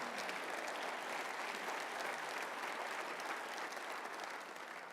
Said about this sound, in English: ask you to recognize them with a warm round of applause